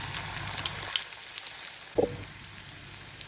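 Keerai paruppu vadai, a spinach and lentil fritter, fry in hot oil with a steady crackling sizzle and scattered pops, plus one brief clatter near the middle, with no talking.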